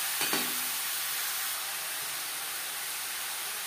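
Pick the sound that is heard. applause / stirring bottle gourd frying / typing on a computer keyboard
stirring bottle gourd frying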